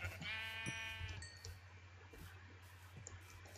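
Sheep in Minecraft bleat in one drawn-out, wavering call near the start, with faint clinks and soft thumps over a low steady hum afterward.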